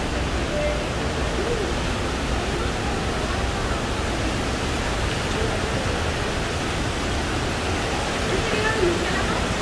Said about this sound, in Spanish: Salimos de esta cueva, de esta caverna, donde emana mucha agua